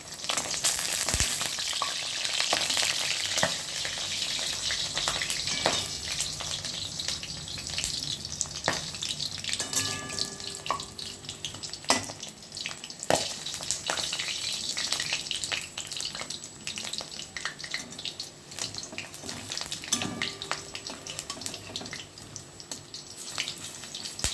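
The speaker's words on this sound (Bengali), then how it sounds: "আমার বড়াগুলো ভাজা হচ্ছে।" Cucumber peel fritters frying in hot oil, a continuous close crackling sizzle with scattered pops and occasional clinks of a utensil, no voices.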